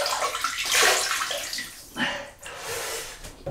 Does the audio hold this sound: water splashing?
yes